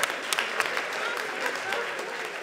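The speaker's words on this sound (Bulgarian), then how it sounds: "Благодаря ви за тези пресилени аплодисменти" Audience applause at a comedy roast, a dense steady patter of many clapping hands with small bursts throughout, filling the whole moment without any voices.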